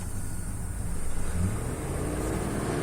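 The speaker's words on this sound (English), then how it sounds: "I might have to put my foot on the throttle, which is unfortunate for the squealing belt, because it's quite irritating" Car engine held on the throttle with a squealing belt, a steady mid-level drone with a slight rise in revs partway through, continuous and without speech.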